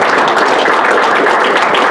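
A luncheon audience at Arrowhead Country Club applauds: dense, loud, continuous clapping from many hands, steady throughout with no voices over it.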